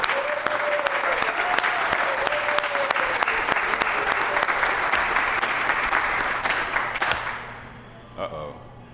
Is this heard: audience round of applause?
yes